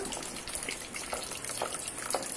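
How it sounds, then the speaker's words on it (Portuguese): Sago pearls rinsed under running water to wash off excess starch, a steady gushing, splashing flow with a few brighter swishes as the pearls are stirred, close by and without talk. "Vou estar lavando com água tirando aquela goma, o excesso da goma."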